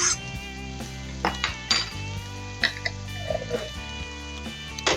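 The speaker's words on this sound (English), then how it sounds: "Kind of just stir it in there and let it kind of cook a little bit." Tomato paste being stirred into a pan of sausage and peppers, with several sharp clinks of a utensil against the pan over a steady sizzle, close and fairly loud.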